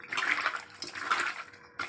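Running water splashes and swishes steadily as meat is rinsed and rubbed by hand with salt, close up, with a brief pause near the end.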